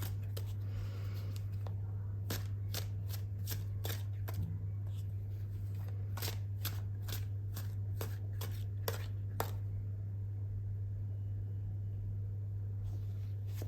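Tarot cards being shuffled by hand, a run of soft quick riffling clicks and snaps in bursts, quiet over a constant low electrical hum, with no talking.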